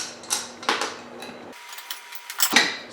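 Screws being removed by hand from a full-motion TV wall mount, giving a run of small metallic clicks, ratcheting and scraping taps at close range, irregular and moderately loud with brief pauses.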